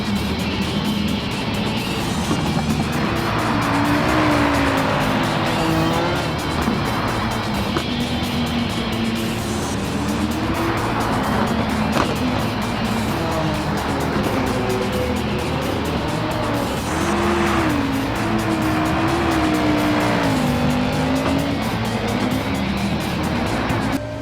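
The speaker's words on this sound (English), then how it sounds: "This is pure, old-school rally driving. No electronic assists, just you, the car, and the icy road ahead." An Audi Quattro rally car drives on an icy road, its engine droning steadily and rising and falling in pitch as it revs through gear changes, loud and continuous throughout.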